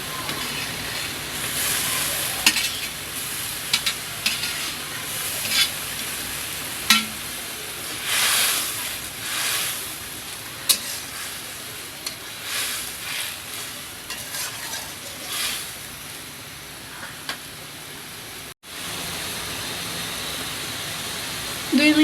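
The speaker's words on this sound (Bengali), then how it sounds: "বলক চলে আসতে এখন ভেজে রাখা ঢেঁড়সগুলো দিয়ে দিচ্ছি।" Fried okra (lady's finger) goes into bubbling gravy in a pan, giving a close, steady sizzling hiss with bursts of frying crackle and stirring scrapes.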